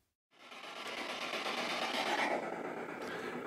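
A ghost-hunting device switches on and emits steady broadband white noise, a loud continuous hiss that starts abruptly and holds evenly for about three seconds with no talk.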